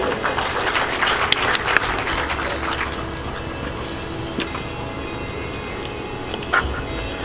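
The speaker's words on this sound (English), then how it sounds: "in your round of applause, please" Steady applause from a crowd at an educational conference, loud at first and gradually thinning, with a few sharper claps standing out.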